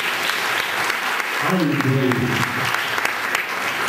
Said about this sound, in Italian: vi devo fare un applausino